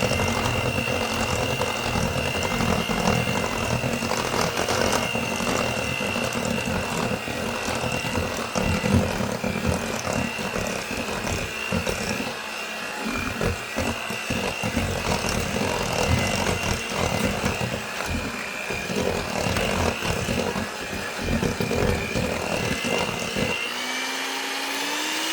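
An electric stand mixer runs on low, mixing unleavened bread dough with a steady whirring drone that holds for the whole stretch, loud and close, with no talking over it.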